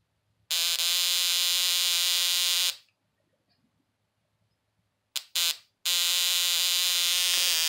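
A solid-state Tesla coil spark gap driven by an adjustable 555 timer and an IRFP260N MOSFET fires in a loud, harsh, buzzing drone. It runs for about two seconds, stops, sputters in short bursts and then starts again.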